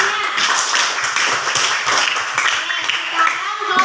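Primary school children in a classroom clap together for a classmate group, a dense, steady round of close applause with some voices mixed in.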